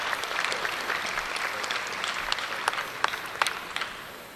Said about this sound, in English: How about a big round of applause again for our fine youngsters and these great heifers.